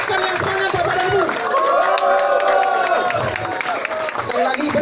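A large indoor audience at a business seminar for 3i Network applauds and cheers steadily, a dense wash of clapping with a voice over the top throughout.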